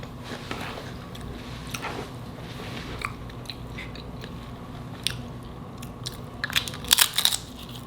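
Crunchy bites and chewing of a homemade tuna sandwich with homemade chips, heard close up over a quiet background hum, with scattered soft crunches building to a louder burst of crisp crunching near the end.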